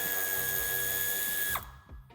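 A power tool removes a screw on a Range Rover Evoque: a steady close whine runs for about a second and a half, then cuts off, followed by faint clicks.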